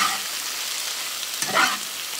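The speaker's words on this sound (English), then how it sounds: "Give it a good final stir." Fajita vegetables sizzling in melted butter in a pan, a steady moderate hiss with a brief scraping stir near the end, close by and without voices.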